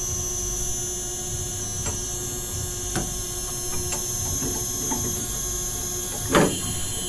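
Techniks ShrinkPRO shrink fit machine heating a tool holder, a steady electrical hum with a few faint clicks and one louder knock near the end.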